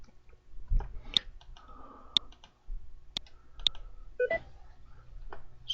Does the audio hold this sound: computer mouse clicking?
yes